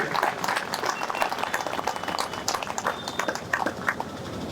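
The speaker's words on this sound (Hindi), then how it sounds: "जोरदार तालियां इनके लिए बजाइए" A crowd at an outdoor rally in Ghaziabad for jobs and social justice applauds a participant in a padyatra foot march. The clapping is steady and fairly faint, with scattered sharp claps and crowd noise underneath.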